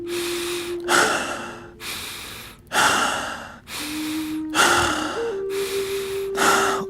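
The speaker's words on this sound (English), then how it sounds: "you do stomach breathing" Slow stomach breathing during fire-style meditation, with repeated long breaths in a steady rhythm, close and fairly loud, over a faint sustained tone in the background.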